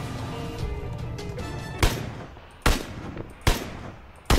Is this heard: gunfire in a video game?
yes